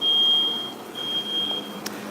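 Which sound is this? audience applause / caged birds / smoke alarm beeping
smoke alarm beeping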